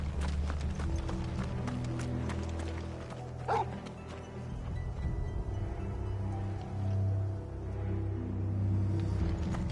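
Horses gallop in a PlayStation 5 Pro video game, a continuous rhythmic drumming of hooves over a low rumble, with a brief sharp whinny-like cry partway through and no talk.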